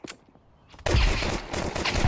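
Gunfire in Counter-Strike 2 on the Inferno map, a brief quiet opening that breaks into a loud, dense burst of rapid shots continuing to the end.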